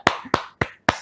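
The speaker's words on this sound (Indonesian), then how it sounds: "Tepuk tangan semuanya." Four sharp separate claps, loud and close, spaced evenly over about a second with nothing else heard, given as audience applause on an Indonesian talk show.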